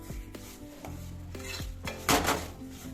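Semolina (rava) is dry-roasted over a low flame in a pan for kesari, with a spoon or spatula scraping and clinking against the metal in repeated strokes, quiet overall with a slightly louder scrape near the end.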